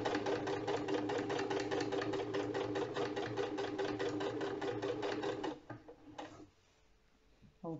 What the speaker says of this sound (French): Voilà, on démarre la surpiqûre.